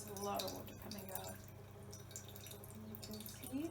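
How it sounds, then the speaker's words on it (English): Water squeezed out of hot cooked courgette trickles and drips steadily into a bowl, a soft wet splashing that continues under faint background hum and a little low talk. "There's a lot of water coming out."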